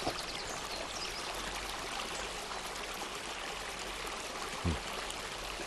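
Mountain stream flowing steadily near a village water source, a continuous broadband rush of water with no break, one brief low thump near the end.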